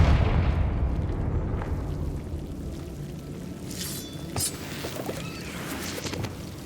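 A Confringo blasting-spell explosion in Hogwarts Legacy, a loud booming burst at the start that rumbles and decays into a lingering low roar with faint crackles afterward.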